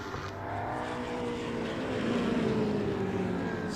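Muscle race car roaring past the commentary box on a circuit, a loud sustained engine drone that swells as it goes by.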